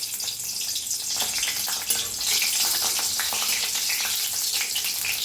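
Seeds frying in hot oil in a pan, a steady close sizzle with crackling pops throughout.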